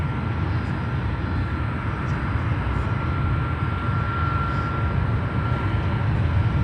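A United Airbus A321neo airliner passing at an airport, a steady broad jet-engine roar with a faint whine on top, loud and continuous throughout.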